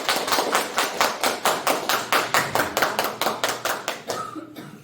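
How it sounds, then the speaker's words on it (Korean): An audience at a university lecture on the Philippines claps for the professor in a rhythmic, evenly spaced beat, about three claps a second, that fades out near the end. "교수님께 큰 박수 부탁드립니다"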